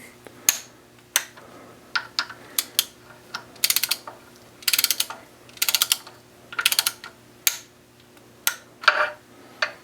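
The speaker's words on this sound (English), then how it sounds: "Let's go ahead and torque these." A torque wrench tightens bolts on the engine of a 2004 BMW 325xi during a rebuild, with repeated bursts of rapid ratcheting clicks separated by short pauses, close and clear, no talking.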